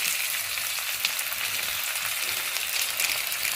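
Pre-fried potatoes hitting a hot, smoking pan, setting off a loud, close, unbroken sizzle with fine crackle throughout.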